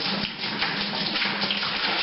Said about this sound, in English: And we'll just pour it on top. And let it run through.